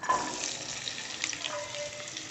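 Vegetables fry in oil in a pan while making spicy semolina, producing a soft, continuous sizzle and crackle at moderate distance with no talk.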